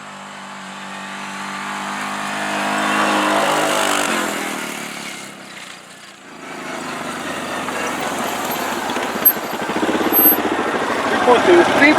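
Yamaha side-by-side engine in a drag racing run revs up loudly and pulls through a gear shift, then climbs again, close and prominent, with voices talking over parts of it.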